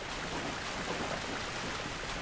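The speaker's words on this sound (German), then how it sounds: "Das ist sogar der Anfang von diesem Staudamm, der den Wasserfall bildet." A waterfall at a dam in the video game Dark Souls gives a steady, dense rushing hiss of falling water, even and unbroken throughout, moderately quiet with no voices over it.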